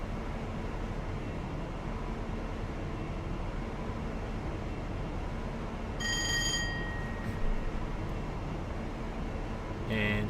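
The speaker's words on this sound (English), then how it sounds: "It does sound like a trolley bell." A trolley-like bell rings on a high-speed train in Train Simulator 2017, a brief bright clang over a steady cab rumble and engine drone.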